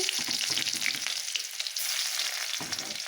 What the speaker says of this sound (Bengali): একটা শুকনো লঙ্কা দিয়ে দিয়েছি এটা অনেকটা গরম হয়ে গেছে আর দিয়ে দিলাম রসুন কুচি